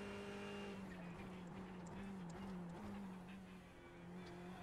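Ferrari 488 EVO race car in a racing video game, a steady close engine drone holding a sustained tone throughout with slight tire squeal, no one talking.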